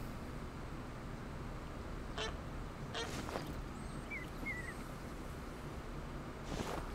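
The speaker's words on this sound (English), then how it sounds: "Looks like we got several flocks of geese coming in." Magpie geese calling in the hunting game theHunter: Call of the Wild, with a few short distant honks and squeaky calls rising faintly over a steady outdoor ambience of wind and low rumble.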